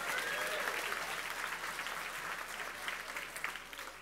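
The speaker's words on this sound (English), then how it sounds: "No, clap louder." An audience at a heritage awards ceremony claps steadily throughout, a dense, even wash of applause heard from within the room.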